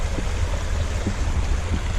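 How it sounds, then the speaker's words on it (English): Small waterfalls along a little stream tributary give a steady, close rushing and gurgling wash, continuous and even throughout the short stretch. "Bunch of little mini waterfalls."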